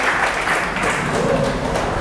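An indoor audience at a school parenting event claps loudly and steadily, producing a dense, continuous wash of applause that fills the whole moment with no pauses.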